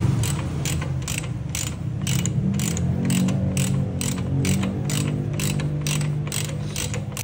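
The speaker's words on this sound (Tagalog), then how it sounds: "At sunod na namin ikinasa itong pagtatanim ng bolt para hindi nakakalas yung ating shock" Ratchet wrench driving a bolt into an alloy motorcycle chassis to secure the shock, a steady run of rapid mechanical clicks repeating close and loud without pause, over a low background hum.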